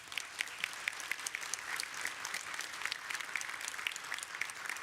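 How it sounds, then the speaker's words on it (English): Applause from a UNISON health conference audience for health workers, moderately distant and fairly quiet, a steady wash of many hands clapping with sharper individual claps standing out throughout. "Give yourselves a massive round of applause."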